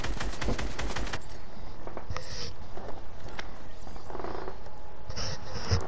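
Rapid automatic gunfire in a video game, loud and dense for the first second, then scattered single shots and distant bursts, with a further burst near the end.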